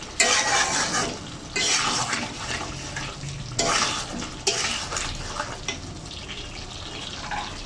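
Chicken stir-fries in spices for kosha, loud bursts of sizzling and stirring in the pan that rise and fade in uneven waves, near and without talk.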